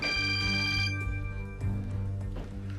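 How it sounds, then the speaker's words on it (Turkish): A phone rings with a melodic electronic ringtone, fairly close and clear, repeating in short tonal phrases with no one talking. "Ayşegül arıyor."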